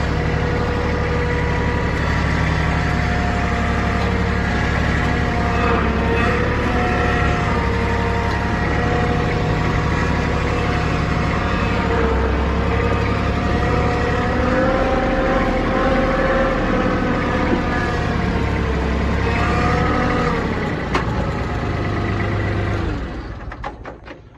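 A tractor engine runs steadily and loudly up close, a constant low droning idle with slight variations in pitch, holding for over twenty seconds before tapering off at the end.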